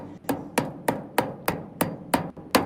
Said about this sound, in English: See that natural technique on the hammer?